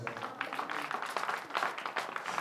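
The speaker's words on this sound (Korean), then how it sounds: "박수 한번 해주세요" A church congregation claps during a Korean sermon, a faint, dense patter of many hands sounding somewhat distant and quiet, with no talking over it.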